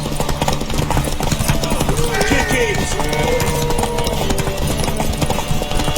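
Horse hooves clip-clopping at a steady gallop in The Witcher 3, a continuous drumming rhythm under a busy game soundscape, with a voice speaking briefly.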